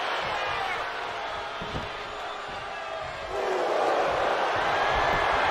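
Virtual arena crowd in the WWE 2K23 wrestling video game: a steady, dense roar that swells noticeably louder about halfway through and holds there.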